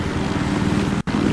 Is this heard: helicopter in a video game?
yes